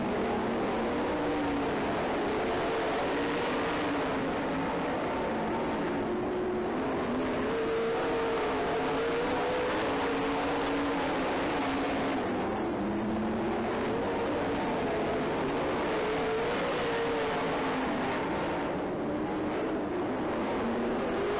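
Race cars at a PDTR dirt-track race circle the oval late in the event, several engines droning and rising and falling as the pack passes, a steady layered roar at moderate distance with no talk.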